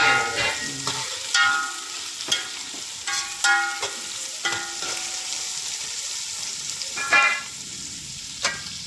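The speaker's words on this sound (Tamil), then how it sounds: "வெங்காயம் கொஞ்சம் எதாவது வதங்கும்" Three medium onions sautéing in a pan for mutton kulambu, a steady soft sizzle with intermittent clinks and scrapes of stirring, heard alone without talk.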